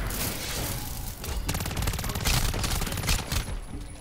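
Rapid gunfire from Call of Duty Zombies rattles on steadily, dense automatic bursts layered over loud game noise throughout.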